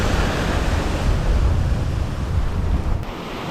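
Ocean surf and current flushing through a cut in a sandbar on a summer beach, a loud, steady, broadband wash of water with wind buffeting the microphone, easing off slightly near the end.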